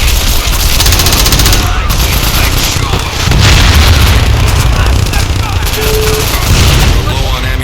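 Gunfire from the Crackdown video game, loud and continuous rapid bursts of shots with booms mixed in, filling the whole stretch over a dense game soundtrack.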